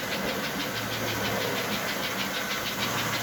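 A model S engine 4-4-4 locomotive's motor spins and strains on the track, a steady whirring hum with a fast rhythmic pulse, close and even throughout without any voices.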